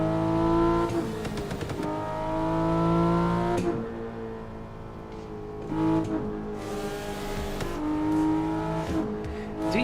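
In the racing game Assetto Corsa, a car engine revs and shifts repeatedly, with loud tonal sweeps that rise and fall in pitch several times and no voices.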